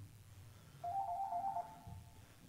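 A phone ringtone plays once as a short warbling electronic trill, fairly faint and indoors, with no talk over it.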